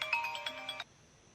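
A mobile phone's incoming-call ringtone plays a short bright melodic burst for under a second, then cuts off abruptly into near silence.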